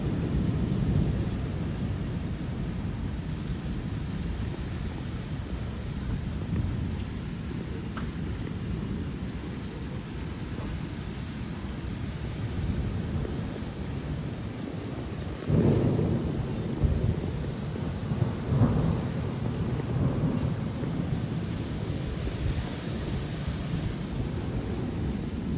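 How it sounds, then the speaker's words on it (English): March thunderstorm in Plano, Texas: steady heavy rain and strong wind roar with long low rumbles of thunder, swelling into louder nearby cracks and booms in the later part, no voices. "That's thunder."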